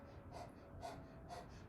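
Rhythmic panting breaths in a kundalini yoga kriya, three quick airy huffs spaced about half a second apart, faint and close with no talk.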